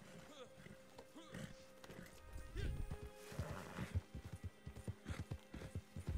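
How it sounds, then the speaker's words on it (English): Horses in the Red Dead Redemption 2 video game clop and snort amid busy game sound, with hoofbeats growing into a rapid rhythm, fairly quiet and mixed with a voice talking. "Dang, these horses."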